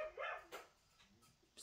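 A dog indoors gives a faint, brief yip and a couple of soft barks, quiet and a little distant.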